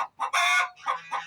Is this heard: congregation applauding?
no